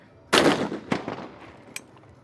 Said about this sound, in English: one remaining target for each athlete. beautiful shot from Hussein